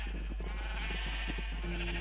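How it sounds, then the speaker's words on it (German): Sheep in the video game Minecraft bleat a few times, short wavering calls layered over a steady game background hum and music, with no talking. "Also ich verstehe nicht, woher die Schafe kommen."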